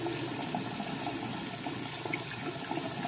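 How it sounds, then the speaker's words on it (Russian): Hot water gushes from a tap in a steady, continuous rush of running water, close and unbroken, with no talking. "Включаем горячую воду. Сейчас чуть сольется."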